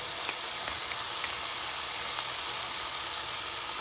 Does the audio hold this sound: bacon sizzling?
yes